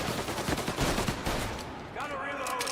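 Rapid gunfire in Mafia Definitive Edition crackles as a dense burst of shots, then tapers as a voice speaks over the tail of the exchange.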